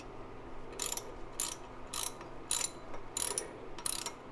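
A ratchet wrench clicks a bolt loose from the power steering pump of a C3 Corvette in six evenly spaced bursts of close, crisp ratcheting, with no one speaking.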